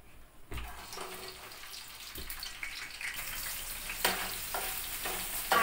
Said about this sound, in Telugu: ఆనియన్స్, పచ్చిమిర్చి ఆయిల్లో వేసాం కదా